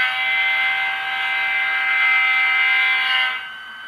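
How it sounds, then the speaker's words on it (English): An ESU LokSound-modeled EMD SD40-2 horn with a 645E3-16T engine, C&NW #6847, sounds one sustained multi-chime blast that holds steady and cuts off sharply near the end, with a slight pitch sag as it passes. "here's the Doppler transition if you're running long head forward as the locomotive's passing by"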